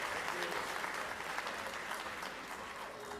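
Audience applause at a school district Teacher of the Year celebration, a dense, steady round of clapping for an honoree, filling the room for a few seconds.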